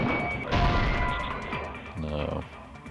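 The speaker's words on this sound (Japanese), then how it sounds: "Broken glass." Glass shattering in the Danganronpa 2 video game, a sharp loud crash near the start followed by a brief tinkling of falling shards, with voice lines and game sounds around it.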